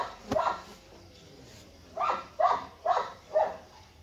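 A dog barks in short bursts: one sharp bark, a pause, then a run of four fairly evenly spaced barks, moderately close with no talking.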